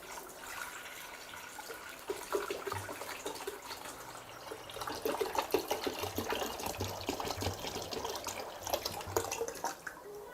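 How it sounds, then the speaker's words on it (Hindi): Water pours from a bottle onto a homemade Peltier-element water heater, a quiet steady trickle and splash that grows busier midway and continues for about ten seconds, close up with no talking. "तो अभी मैं इसके ऊपर पानी डालता हूँ"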